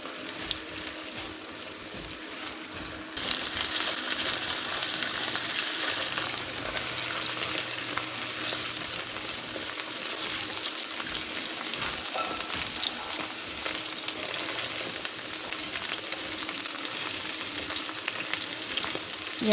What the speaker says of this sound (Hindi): अरबियों की अच्छी तरह से हम इसमें फ्राई करेंगे।